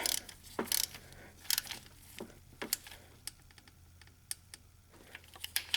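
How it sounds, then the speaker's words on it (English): Working a wrench on the water pump mounting bolt of a BMW M62 engine produces scattered sharp metallic clicks and ratcheting ticks, some louder than others, close and intermittent against a quiet background. "snug down, tighten down the mounting bolt"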